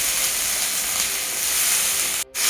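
Chopped eggplant frying in hot oil with panch phoron, chili and onion, a steady loud sizzle and hiss that runs throughout, broken by a brief dip near the end.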